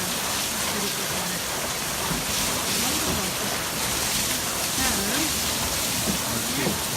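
Steady, broadband rushing of river water running through a working water mill, a dense continuous wash close by that never lets up, with a voice faintly under it.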